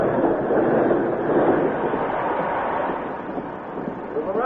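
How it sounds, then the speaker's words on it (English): A steam train pulls into a frontier station, a loud sustained rumbling rush of wheels and steam that eases slightly toward the end. "The arrival of the train with its hissing steam and flying sparks sent the buckboard horses into a frenzy"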